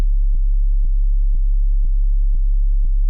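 Low sine-tone kick drum built in Ableton, a deep sustained tone pulsing in a steady four-on-the-floor pattern, six soft evenly spaced thumps riding over the continuous low hum.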